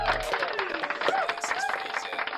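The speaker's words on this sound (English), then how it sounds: "So round of applause for Miss Ella." An audience applauds a young girl, a dense wash of clapping that stays steady for the whole moment, with a voice talking over it.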